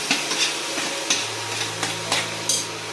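Drained jackfruit pieces drop into hot oil, setting off a steady sizzle punctuated by several sharp, close splashes and clicks at irregular intervals, with no voices.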